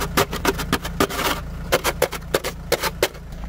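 A camper van's wheel spins on a block of ice in winter, making a rhythmic series of sharp scraping, grinding bursts over a low engine hum.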